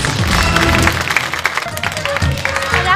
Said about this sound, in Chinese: 好，首先我们用掌声请出第一位青年演员